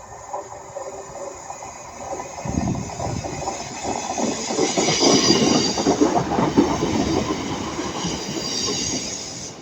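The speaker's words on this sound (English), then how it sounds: "Guys, we've got 150 passing by." A Northern Class 150 diesel train passes at Ardwick, its rumble building from a distance and swelling to a loud, close roar with rattling wheel clatter and a faint squeal before easing slightly.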